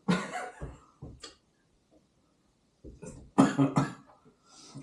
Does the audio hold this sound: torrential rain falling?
no